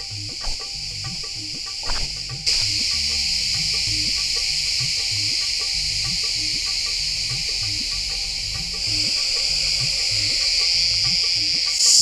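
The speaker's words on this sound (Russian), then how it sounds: "Но очень сильно жужжат эти цикады." Cicadas buzz loudly at a zoo in Antalya, a continuous, piercing, shrill drone that holds steady for the whole stretch and swells louder near the start and again toward the end.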